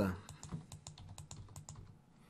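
Keys clacking on a computer keyboard while code is written for a pixel-art drawing program: a quick, irregular run of close, crisp taps lasting a couple of seconds, with no talking.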